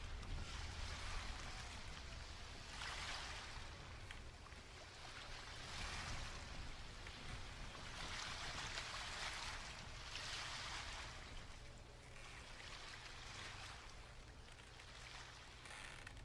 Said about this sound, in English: Today I am on a boat.